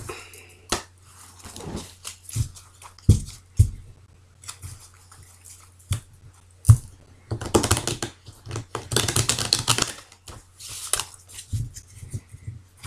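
Oracle cards being shuffled by hand: soft papery flicks and riffles in irregular bursts, some sharp taps and a dense rustling stretch, close and fairly loud with no talking.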